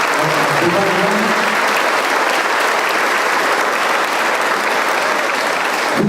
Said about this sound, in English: give a thunderous applause for this generous and significant gesture of our Divine